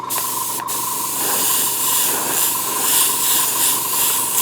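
A short burst of paint spray hisses steadily while a light coat goes onto a scale model, loud and close after a couple of brief clicks at the start.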